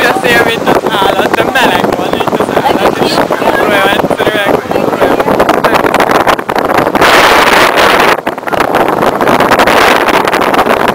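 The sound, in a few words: strong wind blowing on a boat deck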